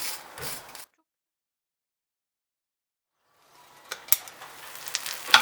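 Börek sizzles as it fries in butter in a pan, with a soft crackle that cuts out into silence. The frying returns with sharper pops and clicks.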